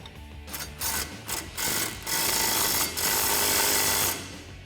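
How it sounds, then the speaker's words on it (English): An 18mm socket wrench tightens a tow hook bolt on a Silverado bumper, giving a close, quick series of ratcheting clicks in bursts. Short pauses separate the bursts before a longer continuous ratcheting run. "Grab your 18mm wrench as well as your 18mm socket, and tighten it down."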